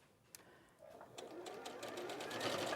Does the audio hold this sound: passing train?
no